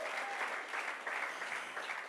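Steady applause from a church congregation, dense and continuous clapping at moderate distance throughout.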